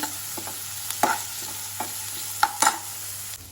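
Chopped onion frying in a pan for gobi manchurian, with a steady low sizzle and a few soft scrapes and stirs of a utensil, close by and with no voices.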